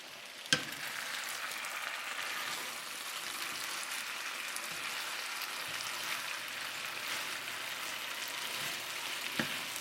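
Chicken wings and mixed vegetables fry in a thickening sauce, a constant soft sizzle and crackle close by, with a couple of brief utensil clicks and no talk.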